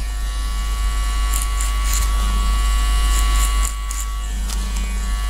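Babyliss FX Pro hair clippers run with a steady, close electric buzz and hum, the motor drone holding constant with small shifts in tone as the blade moves through hair during a pompadour haircut.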